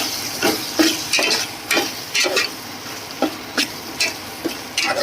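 Masala frying in a pan for egg tomato curry, with coriander powder mixed in: a spoon scrapes and stirs in steady rhythmic strokes over a constant sizzle, close up and with no talking.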